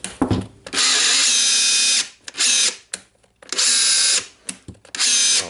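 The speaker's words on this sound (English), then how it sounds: "Now I have the battery. I have the hammer and drilling mode." A Makita DHR243 cordless rotary hammer running in hammer drilling mode, loud close bursts of about a second each with short pauses between, four main runs plus brief taps, no talk.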